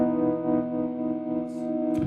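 A sustained electric guitar note rings through a Fillmore 50 amp on the lead channel, with a Strymon delay, reverb and tremolo adding a shimmering, echoing tail, heard alone and fairly loud.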